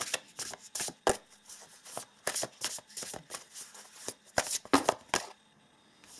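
A deck of oracle cards being shuffled by hand, with repeated quick riffling bursts in an irregular rhythm that stop near the end, close and fairly loud with no talking.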